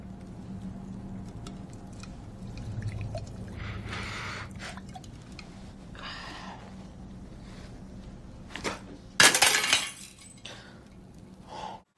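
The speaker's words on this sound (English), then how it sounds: "which is clearly made of metal, but shatters like glass when he throws it against the wall" A metal flask thrown against a wall shatters like glass in a movie sound effect: scattered clinks and small debris ticks lead up to one sharp crash with a bright burst of breaking glass near the end, over a low, quiet background.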